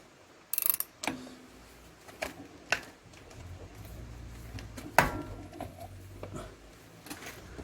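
Ratchet work on a car driveshaft joint while unscrewing it: scattered sharp metallic clicks and clanks, then a low grinding rumble from the turning fitting, close and fairly quiet.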